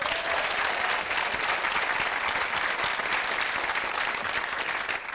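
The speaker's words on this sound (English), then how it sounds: "You get a round of applause." A studio audience on a quiz show bursts into steady, dense applause that carries on at an even level throughout, with no talk over it.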